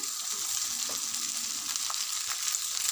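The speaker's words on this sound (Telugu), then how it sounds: "ఇప్పుడు రుచి సరిపడా సాల్ట్ వేసుకొని అన్నం ఇలా ఇచ్చి పెట్టుకొని ఇందులో వేసి మంచిగా కలపాలి" Leftover cooked rice with salt and chilli tempering is stirred in a hot pan, producing a continuous soft sizzle and a few faint scrapes, close and steady without speech.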